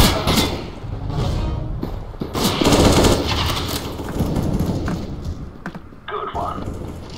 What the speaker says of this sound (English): I'm not gonna lie, this shotgun is good.